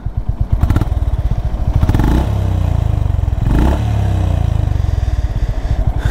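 A Honda CB350 RS motorcycle rides along an open road, its engine a steady loud thrum with two swells of revving as it shifts through gears, a continuous close, throbbing exhaust note with no talk.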